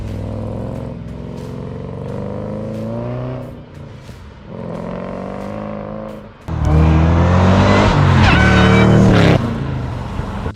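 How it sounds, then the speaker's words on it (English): VE/VF Holden Commodore V8 breathing through a DeFilippo mild steel twin 3-inch straight-through exhaust, rumbling at idle with a couple of blips, then revving hard into a loud, raspy roar before easing back down. "That gives you a sound of what Clooney sounds like, and that's that mild steel twin 3-inch straight through system"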